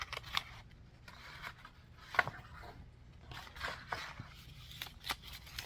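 Scissors snip through a paper player-piano roll, which splits easily around its punched holes; a few quiet, scattered cuts with a sharper snip near the middle, over a soft background hum.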